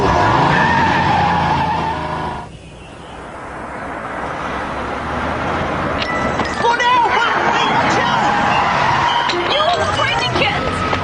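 A car pulls out with a roaring engine and skids, tires squealing loudly over steady motor noise after a brief drop in level, in a comedy TV scene.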